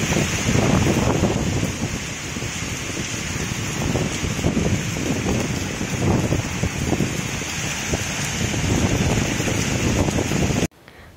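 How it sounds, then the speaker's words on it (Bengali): A strong storm wind roars and buffets the microphone while rain lashes down, a loud continuous rushing that cuts off abruptly at the end. "হাওয়ার কি মারাত্মক দাপট দেখছেন"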